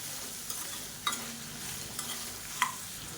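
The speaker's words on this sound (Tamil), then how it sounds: "லேசாக வறுபட ஆரம்பிக்கும் போதே எல்லாத்தையும் ஒன்று ஒன்றா சேர்த்துட்டோம்னா நல்லா வரப்பட்டுரும் கருகாது" Urad dal and chana dal dry-roasting in a pan on low flame, soft steady sizzle with a few sharp scrapes and clicks of stirring, close and fairly quiet, no voices.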